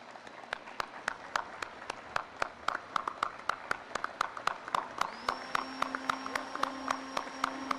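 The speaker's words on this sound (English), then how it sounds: "Another round of applause, please" Live applause at the unveiling of Belize's new $50 and $100 banknotes: a small crowd claps steadily and briskly throughout, with a sustained tone entering partway through.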